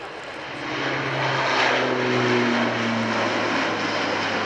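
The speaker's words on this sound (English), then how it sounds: "There you see that performance, 17-degree angle of bank, straight into a right-hand turn after takeoff." Military aircraft taking off at the RIAT Fairford airshow and banking into a right-hand turn: a loud, sustained engine roar that swells and holds steady, with a low droning tone beneath it.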